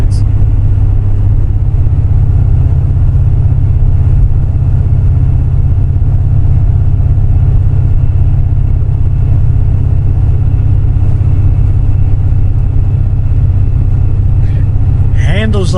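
A finished C4 Corvette with a Crossfire engine on a road test drive, heard as a loud, steady low engine rumble from inside the car for the whole stretch, with faint shifts in pitch near the end.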